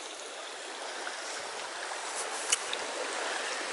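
A stream rushes through a deep ford on a countryside hike, a steady, close broadband wash of flowing water with a faint splash partway through and no voices.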